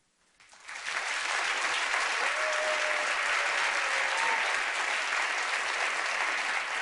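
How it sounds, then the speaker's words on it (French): An audience at an improv match breaks into applause that builds quickly from silence into a full, steady, loud ovation of many hands clapping, lasting several seconds. "vous allez m'applaudir"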